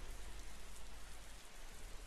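Steady, faint rain falls in a Roblox video game, a soft continuous hiss of drops with no voices and no thunder.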